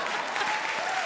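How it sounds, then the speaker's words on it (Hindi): A studio audience at a comedy show breaks into a short, dense round of clapping, steady and moderately loud. "जोरदार तालियां हो जाए।"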